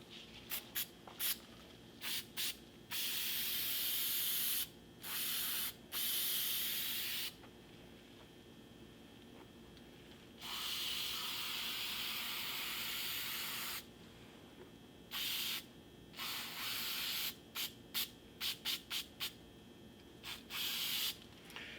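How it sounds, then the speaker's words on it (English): Adhesive glue sprayed from a can onto automotive seat foam for a Chevrolet passenger seat, heard as a series of hissing bursts, some short and rapid, others held for a few seconds, close and fairly loud, with no talking. "Let's go ahead and spray some glue"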